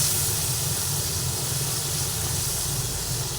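Tomatoes sizzle in hot oil in a pan with fried foli fish, a steady hiss that stays even and close for the whole stretch. No one speaks over it.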